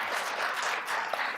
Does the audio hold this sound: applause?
yes